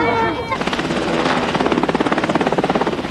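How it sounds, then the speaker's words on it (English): A helicopter's rotor beats in a steady rapid chop, loud and near, with a voice speaking over the start of it. "the president traveled by helicopter to the former U.S. Embassy"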